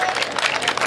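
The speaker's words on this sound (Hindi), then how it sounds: "तालियां कमजोर है" Brief burst of audience applause at a Hindi comedy show, a dense wash of many hands clapping at once, fairly loud and steady throughout with no voice over it.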